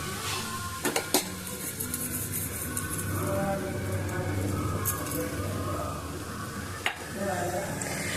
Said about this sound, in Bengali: এবার আমি বড়িগুলোকে উপর থেকে দিয়ে দিচ্ছি।